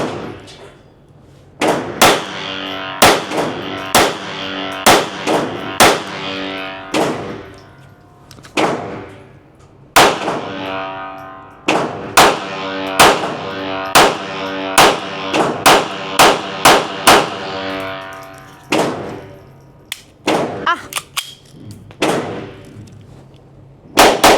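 A Smith & Wesson M&P 22X .22 pistol fires a long series of sharp, loud shots at the range, in quick strings and single cracks with brief pauses between, each shot ringing out with a short echo.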